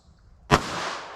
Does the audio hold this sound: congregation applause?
no